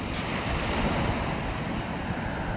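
Ocean surf rolls and crashes in a steady, full roar with some wind rush, continuous and close throughout, with no voices.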